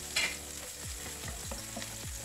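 Preserved vegetable fries in a wok with garlic and ginger, a steady close sizzle broken by a handful of quick scraping stir strokes and a brief clink near the start, with no talk.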